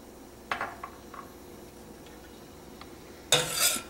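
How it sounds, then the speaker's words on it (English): Homemade lip balm mixture stirred after a few drops of flavor oil, giving short scraping clinks of a utensil against a container, a few scattered taps, then a louder burst of rapid stirring toward the end. "And let's mix that in really well."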